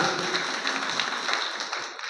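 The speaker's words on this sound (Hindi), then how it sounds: "जोरदार तालियां" Sustained applause from a crowd at a political gathering in Sardarshahar, a dense continuous wash of clapping lasting about two seconds and fading slightly at the end.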